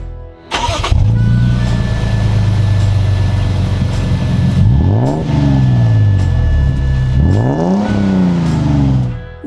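A 3rd-gen Toyota Tundra with an aftermarket muffler starts up and idles with a deep, loud exhaust note, then revs twice in rising and falling sweeps, close and alone.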